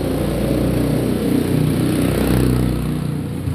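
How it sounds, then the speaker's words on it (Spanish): Motorcycle on a city street in Popayán, engine buzzing loud and close throughout with a steady mid-pitched drone that swells slightly then begins to fade at the end. "uy, ahí viene una moto."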